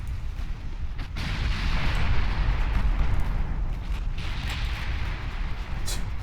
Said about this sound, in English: Torpedo hit on the battleship. 2 of them.